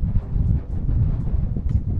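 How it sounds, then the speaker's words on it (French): Strong coastal wind on a Canary Islands beach buffeting the microphone in low, rumbling gusts, steady and close throughout. "Bon, il y a encore beaucoup de vent."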